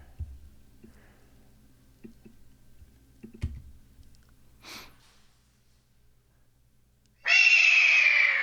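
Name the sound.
hawk call sound effect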